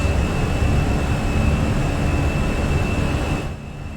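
Jet engines of an Airbus A320 at climb thrust in the Fenix flight simulator, a loud steady roar with a thin high whine that drops off near the end.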